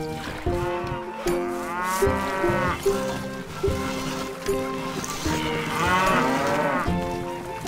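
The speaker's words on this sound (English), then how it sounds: "Old Bessie is acting a little strange, Lord. So are most of the other cows." Cattle in the medieval castle-building game Stronghold moo loudly and repeatedly in long, drawn-out calls, several overlapping lows rising and falling one after another with no talk.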